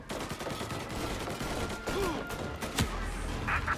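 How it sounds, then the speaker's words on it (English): Gunfire in the video game Mafia Definitive Edition, sounding as a steady, dense barrage of shots with a few sharper cracks near the end, played under a constant noisy game backdrop. "Gunfire and an explosion reported at the Corleone Hotel."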